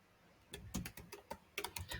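Quick irregular keystrokes on a computer keyboard while code is typed, a short run of crisp clacks close by with no speech.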